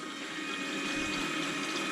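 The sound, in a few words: coolant water flowing through Camaro engine radiator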